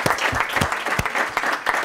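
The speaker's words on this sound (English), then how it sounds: "Anne-Marie deserves a really big round of applause" Dense applause from a conference audience at an energy law forum, many hands clapping steadily and close with sharp individual claps standing out, no speech over it.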